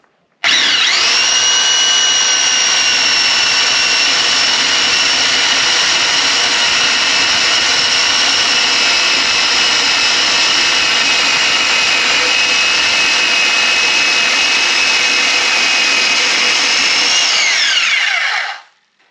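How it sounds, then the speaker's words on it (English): A Hercules circular saw fitted with a beam cutter attachment whines loudly and steadily as it cuts through a wooden beam, holding one sustained pitch for nearly twenty seconds before spinning down. "All right, that beam cutter cut pretty good."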